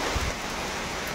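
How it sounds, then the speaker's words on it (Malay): Heavy rain pours steadily on a Malaysian hiking trail at Bukit Dinding via Mini Tahan, a dense continuous hiss of drops close around, with a few low rumbling thumps early on. "Hujan lebat gila."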